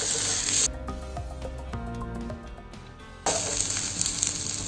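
Tomatoes for a mushroom gravy sizzle and hiss in a hot pan, loud at first, quieter in the middle as they're stirred, then sizzling strongly again.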